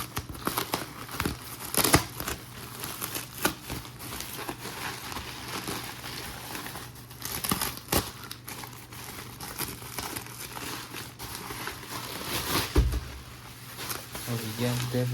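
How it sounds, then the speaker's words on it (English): Plastic bag crinkles and rustles as a new red JBL Flip 6 portable speaker is unboxed, with close, continuous crackling and sharper bursts of tearing and handling noise throughout. "It's inside plastic bag."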